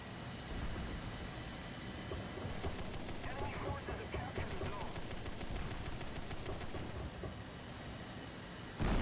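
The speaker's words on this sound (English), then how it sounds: "So with the 31 cannon rounds I have left, I'm going to try and strafe where he is for Baggage Warrior down there" Aircraft cannon strafing in War Thunder, a dense continuous rattle of rapid gunfire running for several seconds under a steady roar of engine and battle noise, with a voice talking over it.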